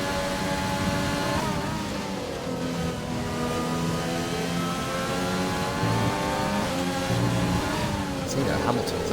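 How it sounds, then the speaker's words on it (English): Racing cars circling a track in a sim racing game at Holland, a continuous layered engine drone with shifting pitches as cars follow one another, heard under a commentator talking. "they're just cars following one another round"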